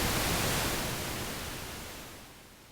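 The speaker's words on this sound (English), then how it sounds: "let's just use the pink noise" A smooth, even hiss of pink noise from a Hydrasynth synthesizer, fairly quiet and gradually fading out over a few seconds.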